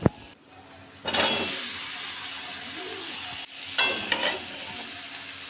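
Jackfruit and potatoes are tipped into a pan of fried spices and stirred, bringing loud bursts of sizzling and hissing steam with scraping spatula strokes between steadier frying.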